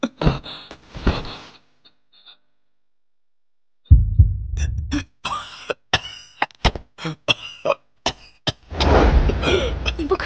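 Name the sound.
coughing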